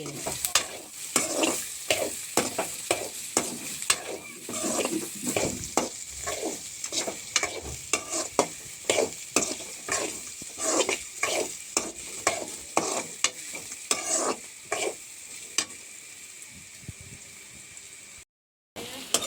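Beetroot for chutney sautéing in a pan: a frying hiss under a quick, regular series of sharp spoon-scraping stirs, close and prominent, with a short silent break near the end.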